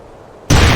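An explosion in SOCOM U.S. Navy SEALs Fireteam Bravo 3 is a single sudden loud blast that breaks a quiet low rumble and fills the rest of the moment.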